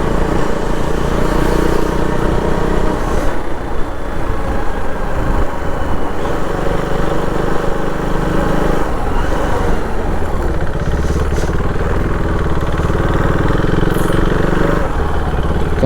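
A motorcycle rides along a road near Keelakarai beach, its engine a loud continuous drone with wind rumble throughout, no pauses in the sound.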